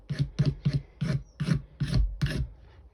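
Sandpaper rasps over a wooden knife handle in about eight firm, evenly spaced back-and-forth strokes to smooth out gouges, close and alone.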